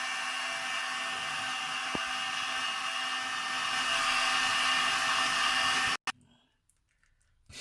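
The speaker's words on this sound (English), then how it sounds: "With a heat gun." A heat gun blows steadily to melt cheese on a burger, a loud, constant whirring hiss with a steady whine lasting about six seconds before it cuts off abruptly, leaving quiet room noise.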